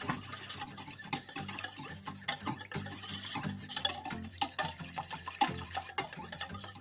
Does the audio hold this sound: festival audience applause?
no